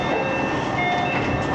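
A train pulling out of a station in Japan, with a steady low rolling rumble, faint mechanical whine and thin high tones running continuously without a break.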